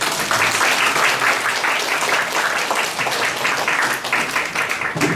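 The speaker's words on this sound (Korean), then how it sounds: "학위수여를 받은 학생들에게 큰 박수 부탁드립니다" An audience at a university biomedical engineering graduation ceremony applauds the graduates, a full, sustained round of clapping heard alone with no voices on top.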